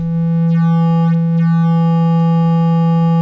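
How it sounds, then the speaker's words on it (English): A Future Sound Systems Timbral Sculptor synthesizer holds a steady, loud, clean triangle-wave tone with a buzzy harmonic series that brightens slightly in brief sweeps. "So what you're hearing right now, I've got a triangle wave"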